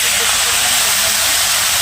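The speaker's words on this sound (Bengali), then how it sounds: "গ্যাসটা বাড়িয়ে দিয়ে এবার জল ঢালো, জল ঢালো।" Water poured into a hot cooking pan on a gas flame turned up high, during home cooking for a Radha Ashtami puja, giving a steady, loud, broad hiss of steam that holds without a break.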